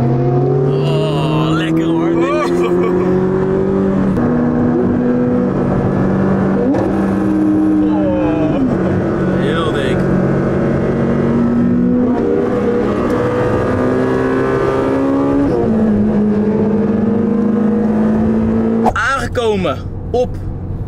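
Supercars, including a Lamborghini STO and a Porsche GT3 RS, on the Assen circuit, engines droning and revving steadily as they pass, loud and continuous with people talking over them.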